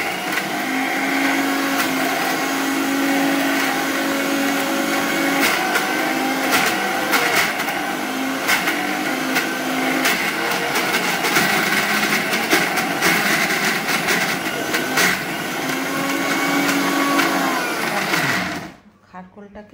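A kitchen grinder whirs loudly and steadily, blending dry red chillies and black cumin into a paste, its motor pitch wavering with the load before cutting off abruptly near the end; a voice talks over the machine.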